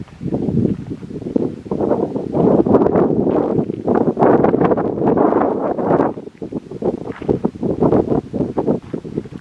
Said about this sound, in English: it is still super windy